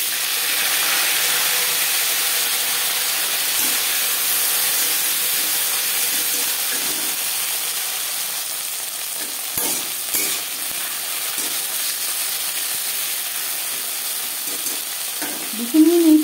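Bitter gourd fries with cumin seeds in hot refined oil, making a broad, steady hissing sizzle close by that eases slightly over time, with a few faint clinks of stirring near the end. No one talks.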